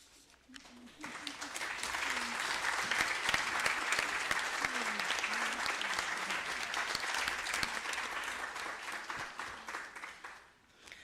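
A full round of applause from a seated audience at a university summer school event as the committee stands, building quickly and holding steady before fading out, dense and fairly close.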